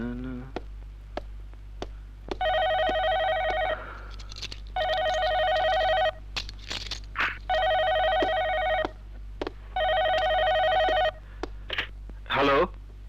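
A telephone rings late at night in repeated bursts, four loud electronic ring cycles separated by short pauses, close and clear with faint clicks and a brief voice between rings.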